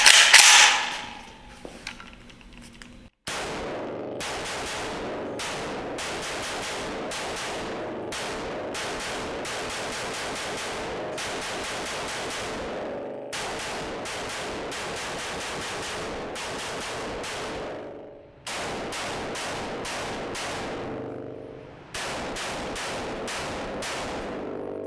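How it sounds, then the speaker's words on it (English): Rapid strings of shots from a rifle fitted with a JMAC Customs 5.99" MMS handguard, fired in long fast bursts with brief pauses between, loud and close with no voices. "Let's get to shooting."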